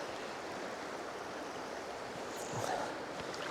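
Fast-flowing water of the River Tweed during a trout fly-fishing outing, a steady broadband rush heard close and continuous, with a slight swell in intensity near the end.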